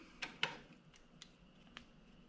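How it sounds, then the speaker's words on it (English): Fishing line is snipped to cut off the tag end after a Snell knot is tied. Two sharp, close snips are followed by a few fainter ticks in a quiet setting. "And then we're going to cut off the tag end."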